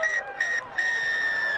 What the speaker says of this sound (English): And the final whistle blows